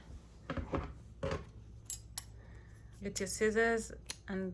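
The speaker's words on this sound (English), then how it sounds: "cut off the yarn" Scissors snipping through crochet yarn at the end of a row, a few short crisp cuts close by, mixed with light handling noises and brief stretches of speech.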